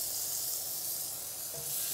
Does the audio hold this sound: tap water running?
no